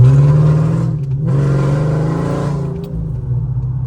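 A 5.7 Hemi engine roaring loudly through long-tube headers, revving up with a deep rumble, briefly dropping off, then surging again.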